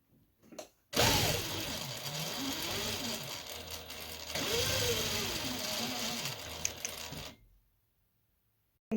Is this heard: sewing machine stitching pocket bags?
yes